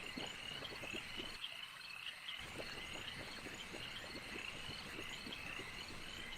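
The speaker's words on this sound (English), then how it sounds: "You can hear toads croaking." Toads croak in a night-time tabletop game ambience track, a dense chorus of faint, rapid pulsing calls layered over a soft insect-like hiss, steady and distant.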